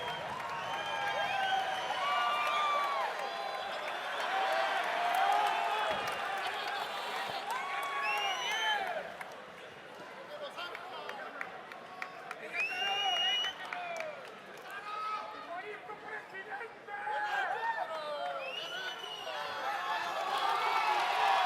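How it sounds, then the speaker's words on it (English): A large crowd at a boxing event in a Monterrey arena cheers, whoops and shouts continuously with scattered applause, a dense roar that swells and dips without pause. Voices talk nearby over it. "Man, look at this crowd, man. This crowd's going crazy."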